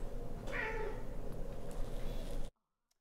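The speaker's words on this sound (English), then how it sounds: "You may hear them meowing in the background." A house cat lets out a single short meow, moderately near, over a steady low background hum that cuts to silence after a couple of seconds.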